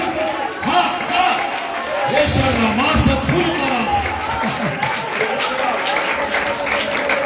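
A worship congregation claps hands together, a loud, continuous patter of many hands throughout, while a voice speaks or sings over it.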